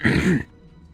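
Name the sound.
throat clearing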